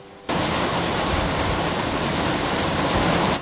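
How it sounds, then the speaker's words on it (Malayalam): Heavy rain pours down in a dense, steady hiss that starts abruptly and keeps a constant loud roar. "പൊരിഞ്ഞ മഴ"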